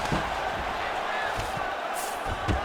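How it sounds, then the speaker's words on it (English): An arena crowd murmurs and roars steadily during a UFC 5 video game fight between Leon Edwards and Kamaru Usman, with occasional dull thuds of strikes landing over the constant crowd noise. "While the crowd continues to react with every passing land"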